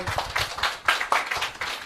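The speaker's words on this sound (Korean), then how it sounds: "박수 주세요" A small group clapping at a members' meeting, a brief burst of close, uneven hand claps with a loose, pulsing rhythm.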